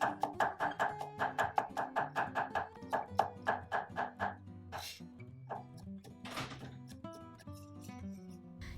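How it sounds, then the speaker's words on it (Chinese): A knife on a cutting board smashing and mincing garlic, heard as a rapid, steady run of about twenty crisp chops, then looser, uneven cuts with soft background music throughout. "把蒜拍一下，之后切成碎末"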